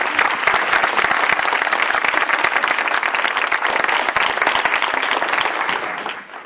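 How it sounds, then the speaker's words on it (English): A conference audience at a spring leadership meeting claps loudly and continuously, a thick wash of many hands that holds steady for several seconds before tapering off at the end. "it would be great if everybody could give Kathy a round of applause"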